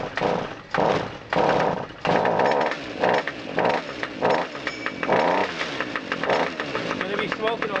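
A small engine pull-started at full throttle without choke, running on fuel treated with Seafoam; loud uneven revving and sputtering bursts continue throughout, with a person talking over it.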